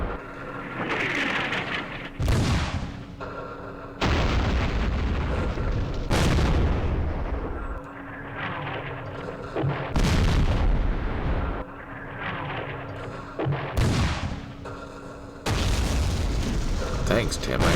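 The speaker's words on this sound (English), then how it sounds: "We'll wait for the artillery" Artillery fire rumbles in the Vietnam-era Campaign Series Vietnam war game at Dien Bien Phu, with about seven heavy, booming blasts spaced a few seconds apart, each ringing out with a long rolling decay.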